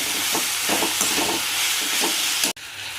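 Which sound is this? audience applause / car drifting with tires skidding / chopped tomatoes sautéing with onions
chopped tomatoes sautéing with onions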